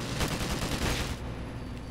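Automatic fire from an AK rifle in Call of Duty Modern Warfare Remastered, a dense rapid burst lasting about a second and then cutting off to quieter background.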